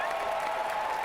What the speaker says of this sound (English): Add applause.